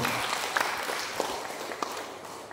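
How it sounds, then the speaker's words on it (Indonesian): Audience applause at an annual members' meeting of a savings and loan credit union cooperative in Pontianak, a steady crowd clapping that holds for a couple of seconds, with a few louder claps standing out. "Kita beri aplaus dulu."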